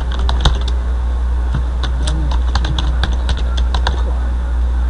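An email address typed on a computer keyboard: quick, uneven runs of crisp key clicks, close and clear, going on for the whole stretch with no voice.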